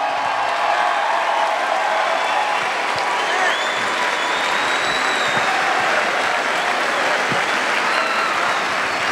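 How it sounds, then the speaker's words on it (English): A large crowd at a gathering applauds the coaching staff's wives with loud, continuous clapping and scattered cheers, sustained for around nine seconds with faint voices underneath. "I'd like the coaching staff's wives to please stand up so everybody can recognize you and give you a round of applause."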